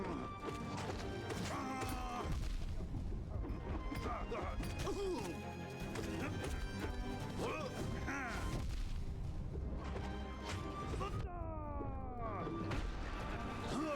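Dense, continuous crashes and booming explosions from the video game Hollow Knight, with rapid impacts and sweeping tonal effects layered over game music, loud and busy throughout.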